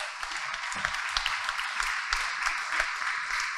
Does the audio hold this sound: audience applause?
yes